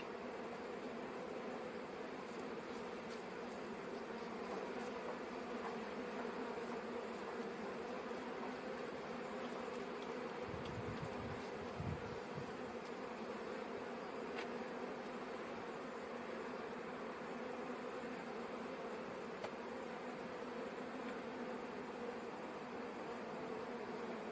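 Bees hum steadily around open beehives during a May honey harvest, a dense continuous drone close by, with a brief low thump partway through and no voices.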